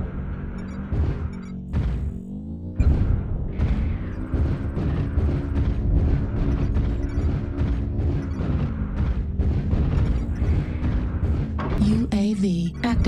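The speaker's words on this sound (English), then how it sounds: "Artillery strike activated" Artillery strike explosions rumble heavily in an urban video game battle, with dense repeated booms and impacts layered under brief game voice announcements.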